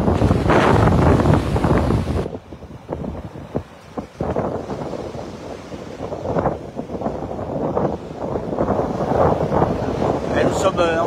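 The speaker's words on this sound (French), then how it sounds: "Alors, regardez, voyez un peu de vent," Gusty wind at Cala Major, Palma de Mallorca, buffets the microphone in loud, rumbling bursts, rising and easing over several seconds, with someone talking underneath.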